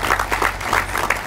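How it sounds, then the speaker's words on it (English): Brief, lively round of clapping from an outdoor crowd at a park groundbreaking ceremony, dense and fairly close, with a low steady hum underneath. "Please give them a round of applause"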